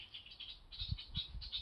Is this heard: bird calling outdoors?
yes